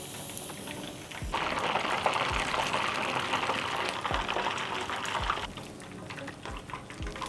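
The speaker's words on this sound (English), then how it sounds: "I'm gonna throw the green onions on now, get them charred up." Green onions sizzle as they char in a pan while eel and spring rolls are cooked. A steady crackling hiss runs throughout, with low thumps and pan noise mixed in.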